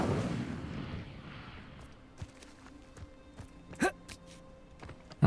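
A fire spell cast in the video game Hogwarts Legacy opens with a loud, low rumbling burst that fades within two seconds, followed by quieter scattered thuds and a sharp hit near the end.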